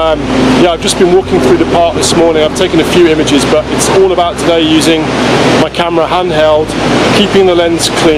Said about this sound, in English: there's a huge amount of water falling from the falls, and you can probably hear it in the background